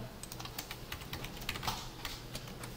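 Fast, quiet clatter of computer keyboard keys as a shortcut is typed, a steady run of light close clicks with no voice over it.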